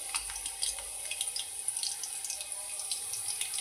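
Garlic hits hot oil in a pan while cooking a spicy methi rassa bhaji, producing a continuous bright crackling sizzle with scattered pops, steady and close, without speech.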